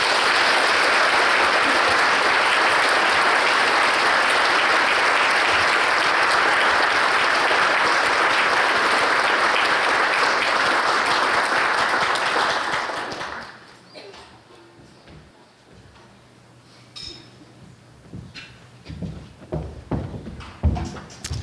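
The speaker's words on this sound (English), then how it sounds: "Let's give a big round of applause and welcome our special guest and treasured ally to the stage, Denise." Loud, sustained applause from a luncheon audience welcoming a guest speaker to the stage, dense and steady for about thirteen seconds before cutting off, followed by quieter room noise, scattered thumps and faint voices.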